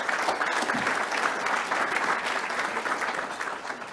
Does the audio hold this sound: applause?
yes